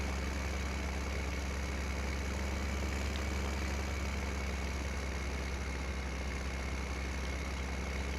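Heavy tractor engine idling in Farming Simulator 17, a steady low rumble that holds constant and close throughout with no variation in pace.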